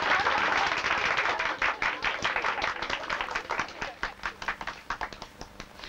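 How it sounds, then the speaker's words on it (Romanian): Stormy applause and ovation from a theatre audience, a dense roar of many clapping hands that gradually thins into scattered individual claps toward the end. "Aplauze furtunoase, ovațiune."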